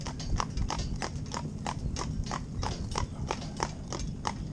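Candy the cob horse walks along with steady, evenly spaced hoof clip-clops on a hard surface, close and distinct over a low rumbling background, with no voices.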